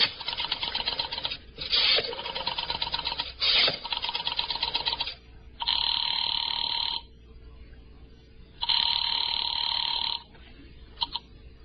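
An old telephone being dialed and ringing in a suspense radio drama, heard as several bursts of mechanical rattling and ringing separated by short pauses, fairly close and alone.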